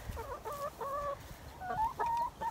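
Several backyard chickens cluck and murmur close by in short, bursty calls, a soft flock chatter with no talking.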